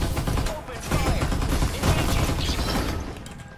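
Gunfire in the Farlight 84 battle royale video game, dense overlapping bursts of shots and impacts in quick succession, loud and busy throughout with game effects mixed in.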